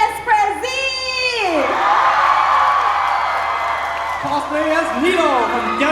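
An expo audience screams and cheers for cosplayers at a meet and greet, loud sustained shrieks and whoops filling the hall for several seconds with no break.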